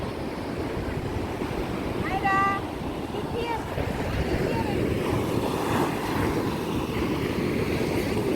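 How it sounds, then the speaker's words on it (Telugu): Sea waves surging onto a beach in a continuous loud, windy roar of surf close by, with brief voices and children's cries heard faintly over the crash of water. "అసలు ఆ సముద్రపు కోరు అనేదే చాలా భయంకరంగా వినిపిస్తూ ఉంటుందండి, ఆ అలల తాకిడి."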